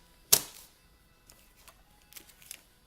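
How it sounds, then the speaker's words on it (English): Paper is scored with a trimmer, starting with one sharp, loud snap of the blade, then a few softer clicks and light scraping taps spread out over the next couple of seconds. "I use my trimmer a lot and just score 1/2 inch"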